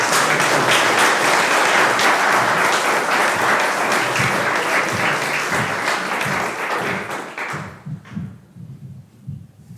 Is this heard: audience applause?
yes